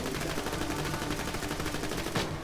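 Rapid gunfire from a Vladov pistol in the shooter game Borderlands: The Pre-Sequel, a fast, even stream of shots that runs without pause and stays fairly quiet in the mix, with no speech over it.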